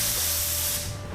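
A paint spray gun hisses out gray paint onto brick walls and mortar, a loud, close, continuous spray that tapers off near the end.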